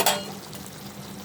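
Chopped onions fry with beef in a pan for curry, giving a soft steady sizzle with a brief scrape of stirring at the start, close and fairly quiet.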